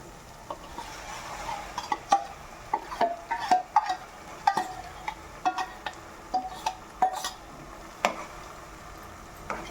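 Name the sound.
tomato puree added to frying ginger-garlic paste, stirred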